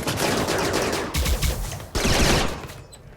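Sustained rapid gunfire as RimWorld colonists shoot at defensive turrets, a dense continuous rattle of overlapping shots broken by brief pauses, loud and close throughout.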